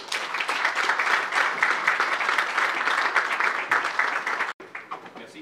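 A formal audience applauds to welcome a speaker, dense sustained clapping from many hands that carries on for several seconds before abruptly cutting out, then resumes more thinly.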